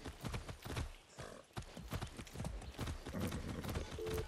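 Horse hooves clip-clop in a quick, steady rhythm on a ride in Far Cry 6, moderately loud and close, with other game sounds faintly underneath.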